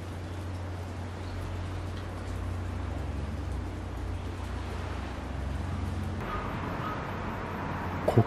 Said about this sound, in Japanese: ちょっと雨が降ってきた。